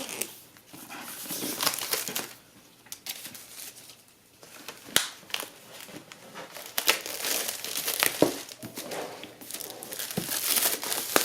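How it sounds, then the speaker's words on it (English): Plastic wrap is peeled off a 2017 13-inch MacBook Pro box in close, uneven crinkling and crackling, with sharp pops and rustles coming in bursts between quieter handling. "Already got the plastic started on the bottom here."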